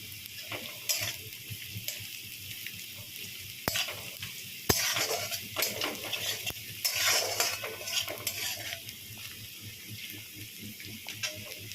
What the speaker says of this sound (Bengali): পেঁয়াজটা একটু নেড়ে চেড়ে ভেজে নিয়ে তারপর ওর মধ্যে কাঁচা লঙ্কা দিয়ে দেব।